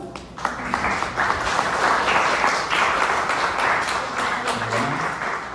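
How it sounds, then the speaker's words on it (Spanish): Sustained, dense audience applause at a conference fills the clip at moderate loudness, steady from start to finish. "Un fuerte aplauso."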